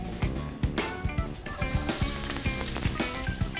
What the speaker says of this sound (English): So my cumin's starting to sizzle